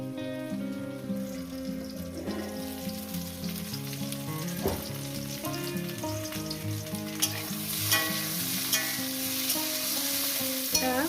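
Brinjal pieces frying in a pan, a continuous sizzle with occasional spatters and clinks under strong tonal background music, with no speech.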